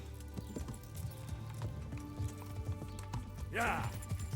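A horse in Kingdom Come Deliverance 2 clip-clops along in a steady, even rhythm of close hoofbeats, with a brief whinny-like burst partway through, while a person talks over it.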